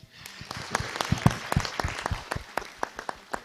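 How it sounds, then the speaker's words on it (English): An audience claps for presenters at a seasonal forecast meeting, a fairly light, loose round of applause with distinct individual claps rising and tapering over a few seconds, without speech. "let's have a round of clap, very big clap for the presenters"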